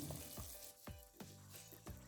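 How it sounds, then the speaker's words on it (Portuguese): Broth heats in a pan on the stove, giving a faint, steady sizzling bubble broken by a few soft clinks and knocks, with no voices. "O nosso caldo já está fervendo."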